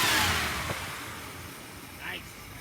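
A 1968 Chrysler Newport's engine runs steadily at close range, a mid-pitched hum with a brief rev near the end, while a voice talks over it.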